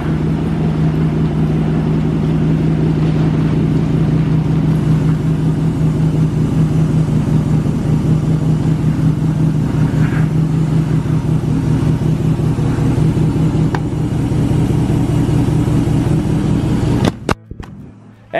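A 2019 Ram Rebel truck on mud tires climbs a hill, its engine producing a loud, steady low drone throughout with a faint, continuous tire hum, then it cuts off abruptly near the end.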